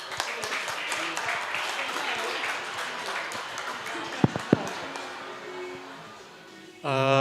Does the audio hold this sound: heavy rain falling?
no